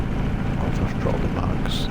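Grumman F6F Hellcat radial engine run up to about 1800 RPM in a flight simulator, a dense, steady, loud rumbling drone, with a voice talking faintly over it.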